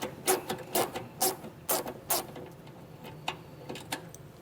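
T15 Torx screws come out of the bumper of a 2023 Cadillac XT4 with a run of sharp, close clicks and ticks in uneven quick bursts, growing fainter and sparser toward the end.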